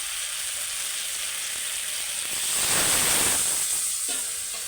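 Water hits a hot pan of fish curry with bata fish, prawns, potato, kohlrabi and tomato. A steady close sizzle swells into a louder hissing burst midway, then eases back. No one speaks.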